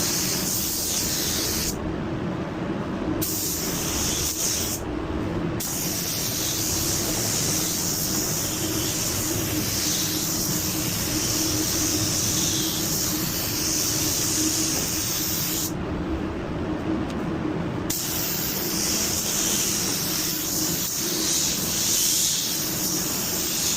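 A spray gun applies Ultra 9K sealer in a continuous loud hiss, broken by a few brief pauses between passes, close up and with no talking.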